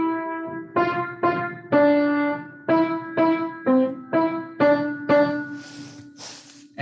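Piano notes from the beginner piece Firefly in Piano Adventures, played one at a time in a slow, even rhythm, about a dozen clear struck tones with short decays, close and alone.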